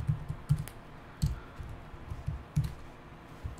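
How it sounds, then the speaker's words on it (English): Keys on a computer keyboard clatter in uneven bursts of taps and clicks while code is typed, close and fairly crisp with short pauses between clusters. "I'm just going to start typing."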